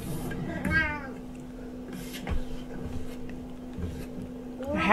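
A cat meows several times, drawn-out and fairly close, with a steady electrical hum and a faint voice underneath.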